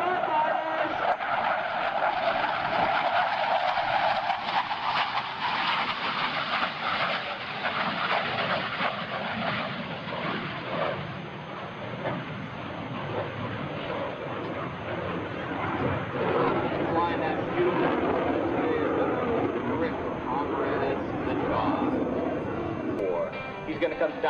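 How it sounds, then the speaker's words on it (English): A Lockheed F-104 Starfighter jet makes a low, fast photo pass at over 350 knots at the 2005 AirPower Over Hampton Roads air show, producing a loud, sustained broadband roar for over twenty seconds while an announcer talks over it. "it is the photo pass with the 104's unique sound and appearance, the Starfighters!"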